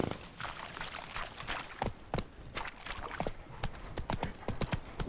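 Hooves clip-clop rhythmically as a horse gallops in The Witcher 3 video game, a quick, fairly faint beat over ambient outdoor game sound.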